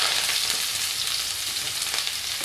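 Sliced onion frying in hot oil for Hakka noodles, a steady, loud, close sizzle that holds evenly throughout with no talking.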